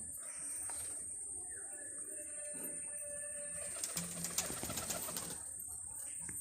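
Pigeons at a home loft coo softly amid a steady high insect drone, with brief wing-flapping bustle midway; no one speaks.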